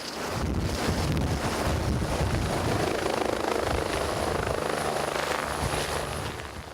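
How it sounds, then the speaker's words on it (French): A Rega rescue helicopter roars loudly overhead above a hospital in Biel, its rotor thumping and engine whine rising and fading slightly, with wind buffeting the microphone. "L'hélicoptère de la Rega survole le centre hospitalier Bienne."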